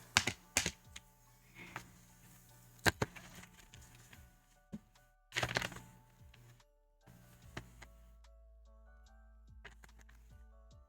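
Scissors snip through paper in a few close, crisp bursts with pauses between, then quieter rustling and small ticks as the paper is handled.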